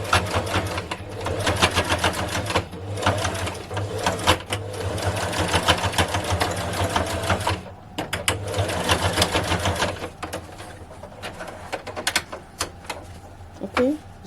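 A sewing machine top stitches elastic onto a fabric face mask, running in steady bursts of rapid mechanical stitching with brief pauses between runs, close and fairly loud.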